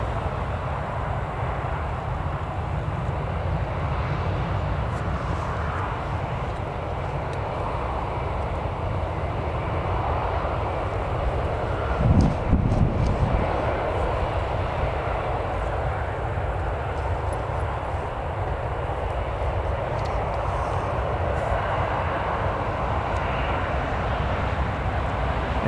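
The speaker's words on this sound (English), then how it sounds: "So here's the next Jet 2 aircraft landing." A Jet2 airliner lands at Newcastle Airport, its engines a steady broad roar in the distance that swells briefly near the middle, continuous throughout with no one speaking.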